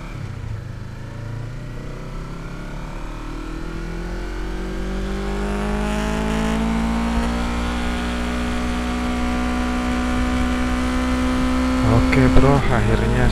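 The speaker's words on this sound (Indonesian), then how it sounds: "ngetes motor New CBR 250RR di trek pribadinya milik Honda" A 2023 Honda CBR250RR sport motorcycle engine roars at high revs on a test track, its pitch climbing steadily through the gears to a loud, sustained scream at top speed.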